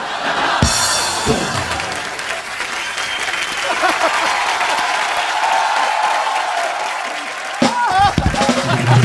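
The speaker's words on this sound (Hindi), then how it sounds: "ठोको ताली।" A studio audience on a comedy talk show bursts into loud applause and cheering, mixed with a few sharp bangs and shouted voices, the clapping swelling and carrying on for several seconds before fresh hits near the end.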